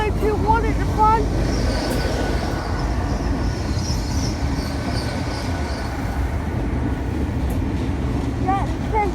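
A Great Western Railway Class 802 train runs through Newport station with a steady rolling rumble and high wheel squeals, heard from close on the platform.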